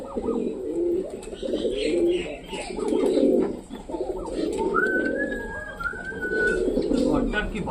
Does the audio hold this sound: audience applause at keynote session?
no